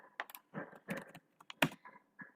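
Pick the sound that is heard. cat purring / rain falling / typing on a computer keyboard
typing on a computer keyboard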